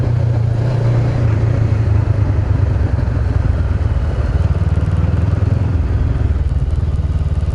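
Honda CB500X motorcycle riding over fine pea gravel, a loud steady engine drone close up with continuous crunching, rattling tyre noise beneath it, no speech.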